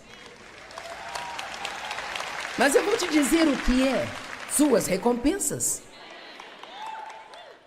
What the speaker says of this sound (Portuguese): Só tem uma pessoa aplaudindo isso.